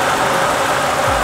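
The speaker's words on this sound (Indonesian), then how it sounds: "Nih, sekarang nih kipasnya sudah hidup. artinya panas mesin sudah mencukupi." A Honda car's radiator cooling fan running alongside the idling engine, a loud steady broadband whir over a low engine rumble, close and continuous with no talking.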